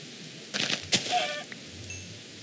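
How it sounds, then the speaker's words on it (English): A chicken clucking in Minecraft: a few short, faint, clipped fowl calls over a quiet hiss of ambient background. "Chicken!"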